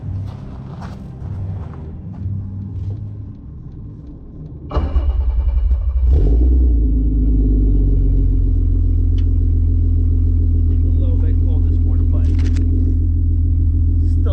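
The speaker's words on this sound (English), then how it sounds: "let's go ahead and get us a little cold start action here. We haven't had any VR sounds in far too long." Cold start of a VW Jetta Wagon's VR6 engine: a voice talks over a faint background at first, then the starter cranks briefly and the engine catches with a loud rev before settling into a deep, steady idle rumble.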